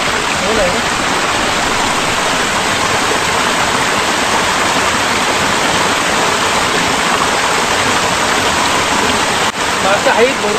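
Heavy rain falls steadily in the evening near a riverside fishing spot, a loud and dense unbroken roar of downpour that lasts the whole stretch, with a brief knock near the end.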